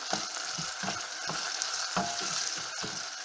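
Onion and garlic frying steadily in a pan, a continuous close sizzle with soft stirring clicks and scrapes recurring through it, no one speaking.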